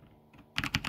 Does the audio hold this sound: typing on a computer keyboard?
yes